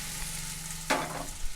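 Okra hitting hot refined oil, a low sizzle that jumps into a sudden hissing burst as the vegetables drop in, then settles into steady frying.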